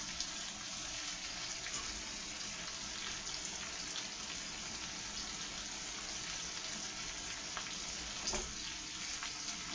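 Butter sizzling and frying in a pan while being moved around for a corned beef and cabbage meal, a steady low crackling hiss with faint stirring scrapes running throughout.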